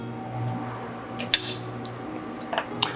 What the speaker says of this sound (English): to finish these off, I'm going to just toss them with a good bit of butter